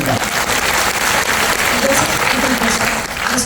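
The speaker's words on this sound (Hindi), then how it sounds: "उसके लिए ताली बजाइए एक बार" A crowd at a network marketing business event claps loudly and densely, a close wall of applause with voices mixed in.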